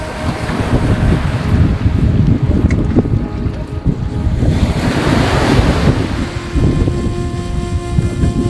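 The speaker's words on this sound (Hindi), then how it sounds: "और इन लहरों को देखते हैं।" Ocean waves washing onto the shore at Tamarin, Mauritius, a constant close roar of surf mixed with heavy wind noise on the microphone.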